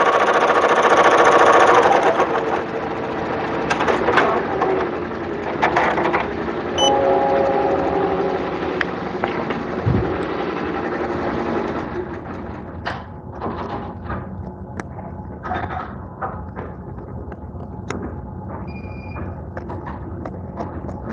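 A cutting machine runs close by with a loud buzzing, rattling mechanical drone and scattered clicks and thumps, easing somewhat quieter toward the end.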